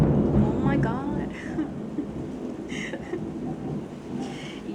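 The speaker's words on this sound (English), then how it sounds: "it's raining a lot" Heavy rain with rumbling thunder, a steady wash of downpour under low booming rolls, with a person talking over it.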